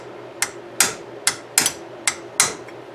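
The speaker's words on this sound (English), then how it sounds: "I don't like pounding up on this because it can, right here where the tip of my hammer is" A hammer strikes a metal part of a 1974 Suzuki TC 185 motorcycle, six sharp close metallic knocks spaced roughly half a second apart, each with a short ringing decay over a low steady hum.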